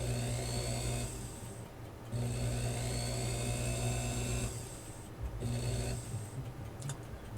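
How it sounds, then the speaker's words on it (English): Steel burnisher working a clock wheel pivot during a repivot job, a steady close whirring hum with a high whine that stops twice briefly, likely a lathe turning while the burnisher rubs the pivot. "So I'm just going to burnish it just a little bit here so I can smoothen it out a bit"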